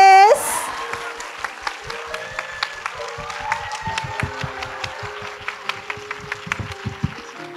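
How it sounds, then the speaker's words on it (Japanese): An audience at the Disney 100 Film Festival opening event applauds as actress Takako Matsu arrives on stage, sparse, crisp claps ringing out over upbeat music and a voice. "拍手でお迎えください松たか子さんで"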